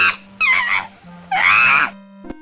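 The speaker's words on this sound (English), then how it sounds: "A chimpanzee goes" Chimpanzee calls from a children's zoo learning game for MS-DOS: two loud, rising hooting and screeching bursts about a second apart, followed by a short thump at the end, with no talking.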